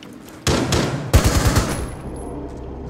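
Automatic gunfire in the video game Rainbow Six Siege, two loud rapid bursts of shots in close succession, the second with distinct rattling rounds, fading into a quieter tail with no talking.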